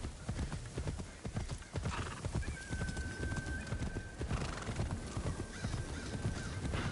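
Horse hooves clip-clopping at a steady trot with an occasional neigh in the Assassin's Creed Shadows video game, close and continuous over a soft ambient bed.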